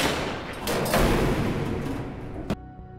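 A gunshot from the film Oldboy bursts out amid a dense, loud film soundtrack, followed by a sharp crack near the end and then a sudden drop to near silence.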